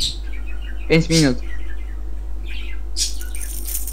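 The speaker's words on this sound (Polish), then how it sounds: "zaraz zrobię cięcie, aż ta moja papuga się uspokoi" A pet parrot indoors gives a loud, sharp squawk with a rising pitch, plus a few fainter chirps, over a steady low hum while people talk casually nearby.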